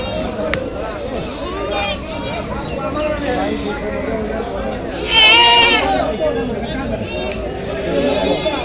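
Native goats being bought and hauled about at a big rain-soaked goat haat in Deohata, Tangail, bleating several times amid constant crowd chatter and nearby talking voices.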